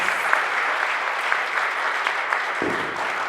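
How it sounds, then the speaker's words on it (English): Sustained audience applause for a panel at a conference on organisations and change, a dense, steady wash of many hands clapping in a hall with no talking over it. "Can we give them a round of applause for sharing their insights?"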